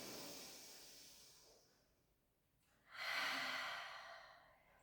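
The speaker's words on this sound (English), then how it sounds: "Take a breath in." During a pilates stretch, a soft breath trails off into near silence, then a clear, airy inhale through the nose rises close and gently fades.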